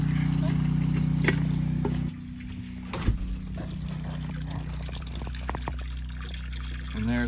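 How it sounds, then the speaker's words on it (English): Well water is pumped in through a filter at an off-grid homestead at night, a steady low pump hum with soft trickling and flowing water beneath it, fairly quiet, with a few faint clicks and knocks. "And there's our water coming in through the filter from the well."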